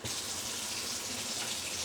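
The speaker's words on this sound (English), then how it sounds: "now I'm going to turn the hot water on" A hot water tap runs steadily, drawing from a Rheem RETE 7 tankless water heater, a continuous close hissing rush of flowing water with no talking.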